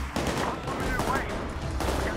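Rapid gunfire in the heist shooter Payday 2, dense overlapping shots forming a continuous close burst throughout.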